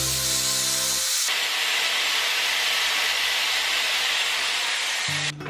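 Dyson Airwrap Volume and Shape hair styler on its second heat setting, a steady loud rush of blowing hot air that starts abruptly after a brief motor whine and runs almost uninterrupted.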